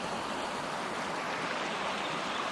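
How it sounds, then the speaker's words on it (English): A creek flows steadily beside McKay Crossing campground, giving a continuous broadband rush of moving water at moderate distance, even and unbroken throughout with no voices. "right next to the creek."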